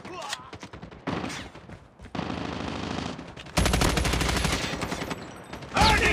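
A turret firing in Call of Duty Mobile, loud sustained bursts of rapid automatic fire in several segments separated by brief pauses, with game voices mixed in.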